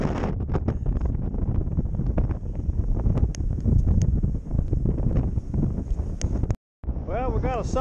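Strong outdoor wind buffets the microphone in a loud, continuous roar on open ice, with gusty rumbling throughout and a brief dropout near the end.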